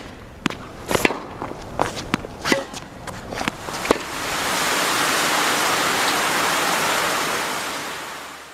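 During a tennis game, sharp footsteps and scuffs ring out close by, then rain starts and quickly builds into a steady, loud hiss that swamps everything else.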